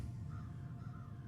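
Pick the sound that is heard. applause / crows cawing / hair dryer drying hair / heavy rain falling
crows cawing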